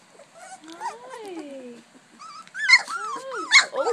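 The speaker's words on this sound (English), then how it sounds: "Eight healthy puppies." Three-week-old puppies from a litter of eight whimper and squeal in high, wavering cries, several overlapping close by, growing louder and busier toward the end, with a voice faintly mixed in.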